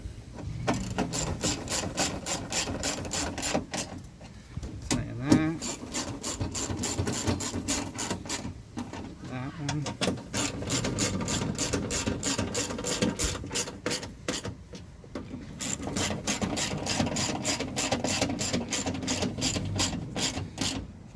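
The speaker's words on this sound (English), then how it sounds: "now that we have all 6 bolts in, now we're going to tighten it." A hand ratchet tightens the six window regulator bolts on a 1999 Toyota Sienna with a 3.0 L V6, rapid loud clicking bursts repeated over and over with brief pauses between strokes, close up and without talk.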